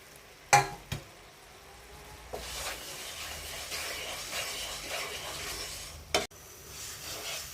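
Flattened rice (chira) tipped into a hot pan of sticky syrup for moa, then stirred with a steady scraping and rustling, opened by a couple of sharp clinks of utensil on pan and another near the end, no voices.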